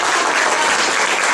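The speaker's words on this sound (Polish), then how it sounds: "Wielkie brawa, szanowni państwo." A burst of dense, loud audience applause for the performers, sustained and even throughout.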